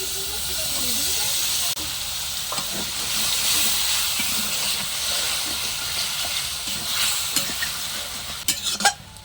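Chopped tomato with salt and a little water sizzles and hisses in a pan while being sautéed, with steady steam, scattered stirring scrapes and clattering knocks near the end.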